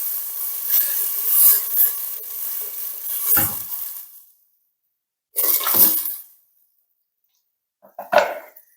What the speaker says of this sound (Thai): ก็ตามด้วยน้ำต้มสุกนะคะ ใส่ลงไปเล